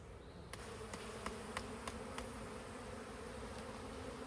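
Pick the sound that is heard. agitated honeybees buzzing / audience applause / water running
agitated honeybees buzzing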